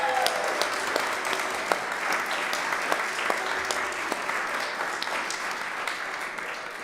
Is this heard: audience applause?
yes